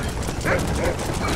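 Dogs yip and bark briefly in Red Dead Redemption, a couple of short calls heard amid loud, dense in-game ambience of wind and rain during a cattle roundup.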